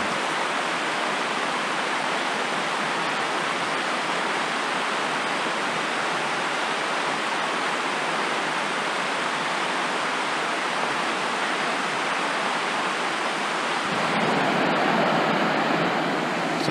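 A shallow, low-running stream rushes beneath a trail bridge on the Loyalsock Trail in fall, a steady broadband wash of water heard alone and close, with the roar growing slightly fuller near the end.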